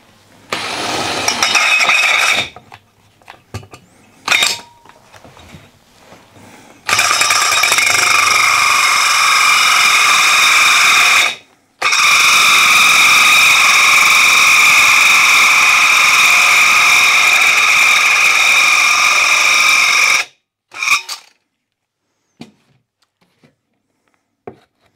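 A power drill bores the middle hole while a stand is built in a workshop, with a sustained loud whine in two long bursts and short starts and stops between them, and no talk.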